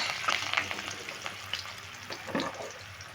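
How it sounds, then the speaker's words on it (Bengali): Panch phoron seeds and green chillies frying in hot oil make a soft, busy sizzle with light spattering pops, fading a little toward the end. "এবার ফোড়নটা খুব ভালো করে ভেজে নেব"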